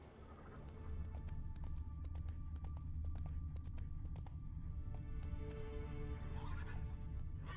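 A horse gallops in The Witcher 3 video game, steady rhythmic hoofbeats over a low game ambience, with a neigh and faint background music, fairly quiet throughout.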